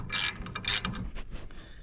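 A ratchet wrench clicks as a bolt is tightened down on a pump part, giving a quick series of close mechanical ratcheting clicks over about two seconds.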